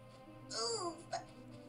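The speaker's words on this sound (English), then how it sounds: "Sounds a little like a hiccup in between that." Short squeaky, hiccup-like vocal sound from a character in A Series of Unfortunate Events video game, a rising-falling chirp followed by a brief second blip, moderately loud over a low game background hum.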